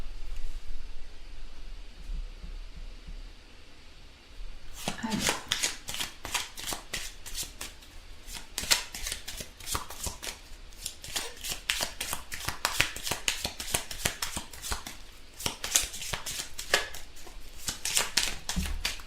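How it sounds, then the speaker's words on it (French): Tarot cards are shuffled and drawn for a daily love reading, giving a quiet start and then about fourteen seconds of dense, steady riffling and flicking close by, with no talk. "Et on va tirer une carte de l'amour."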